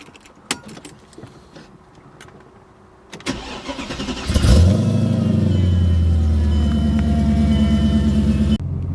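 A car fitted with EV14 550 injectors cranks after some key and cabin rattles, catches and settles into a loud, steady idle, then the sound shifts sharply near the end, with no voices.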